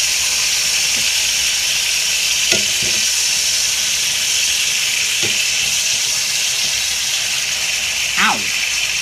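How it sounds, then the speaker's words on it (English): Food frying and browning in a pan gives a loud, steady sizzle with bursts of splattering and a few brief knocks and scrapes, continuous and close throughout. "Well, it's definitely browned."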